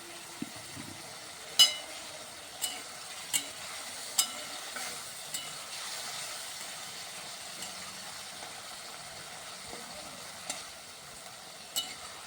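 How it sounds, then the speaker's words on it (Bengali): Spices frying in oil on a gas stove before cabbage goes in: a steady, quiet sizzle with a series of sharp clacks of a utensil against the pan, spaced irregularly throughout. "বাঁধাকপি দেবো, অল্প মশলাটা কষা হয়ে যাক"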